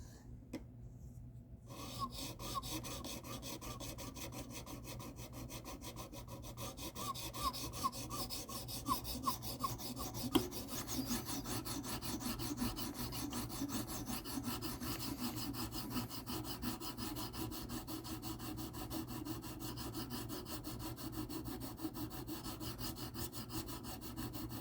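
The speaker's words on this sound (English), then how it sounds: "I'm only going to sharpen with each one enough to get rid of my previous scratch pattern" A ZT 0562 knife with an S35VN steel blade is drawn over KME sharpener stones in a long, steady run of fine, even rasping strokes, close but quiet, with no talk.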